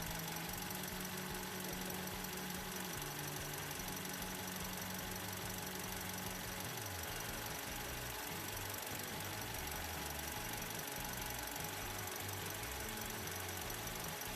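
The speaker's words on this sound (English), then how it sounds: "Oh yes, the engine remains on." A Toyota Calya's 1.2-litre engine idles steadily with the bonnet open during an automatic transmission fluid check, giving a constant mechanical hum with a light, even ticking beneath it and no speech.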